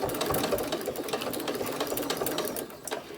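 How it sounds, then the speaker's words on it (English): A sewing machine stitching a small keychain fob made from fabric scraps, running in a loud, steady, rapid needle chatter throughout, close up and without speech. "my needle down, lift my presser foot and turn, and again, and I'm going to sew right across."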